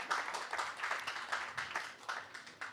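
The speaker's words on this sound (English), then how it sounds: "Laila, round of applause, guys." An audience at a conference applauds, a brief burst of scattered, moderately quiet clapping that swells and ebbs in uneven waves.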